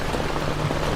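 Heavy rain falls outside a tent at a campsite, a dense, even hiss of drops pattering on a surface, constant and close for a brief moment.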